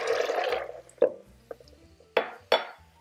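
Water splashing into a blender jar of raw cashews, starting with a short pour, followed by several sharp glassy clinks and knocks of the jar, close and fairly faint, with no talking.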